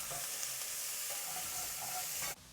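Chopped red pepper cooking in a pan sizzles with a steady, close hiss, with a few light stirring clicks, before stopping abruptly near the end.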